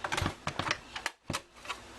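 Two stacked sheets of pink cardstock are cut together in one pass, giving close, quick rhythmic clicking and ticking with a short pause partway through.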